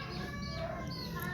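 A mother hen with her chicks clucks softly in the background, a faint, steady murmur of short calls under a constant ambient hum.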